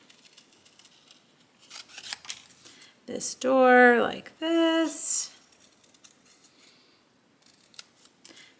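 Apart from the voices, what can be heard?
paper snips cutting around a cardstock door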